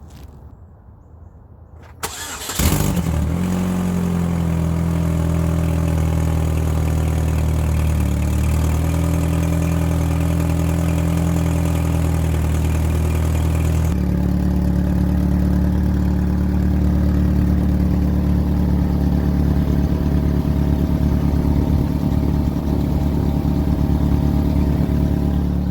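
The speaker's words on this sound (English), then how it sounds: "we're getting a lot of exhaust coming from under the passenger side" A car engine starts after a brief crank and settles into a steady idle, with an exhaust leak under the passenger side, a constant close rumble with a slight change in tone partway through.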